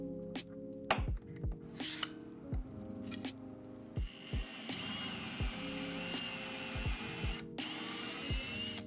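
A power drill boring holes in MDF for threaded inserts, repeated short whirring bursts starting and stopping in a steady rhythm, close and fairly quiet with an underlying tool hum.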